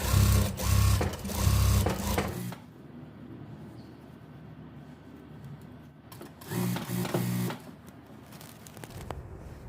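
A domestic sewing machine topstitches the overlocked waist of a gathered skirt, running in two quick bursts of steady mechanical whirring separated by a quiet pause.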